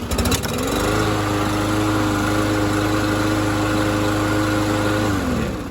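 Small Briggs & Stratton EX lawn mower engine starts up and runs at a steady, even 3100 RPM with a constant hum, then begins to wind down at the end.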